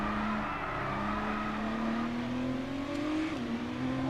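A McLaren Formula 1 car in the F1 22 racing game accelerates off the starting grid, its loud engine whine climbing steadily in pitch as it runs up through the gears, with no voices.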